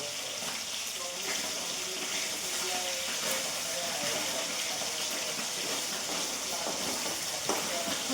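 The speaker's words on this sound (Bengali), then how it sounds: "মাছগুলো ভাজা হোক।" Pieces of fish frying in a pan give a loud, steady hissing sizzle that runs unbroken the whole time, with a few faint clinks underneath.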